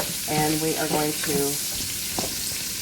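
Hamburger meat fries in a hot pan, a steady close sizzle with stirring scrapes, while a person talks over it.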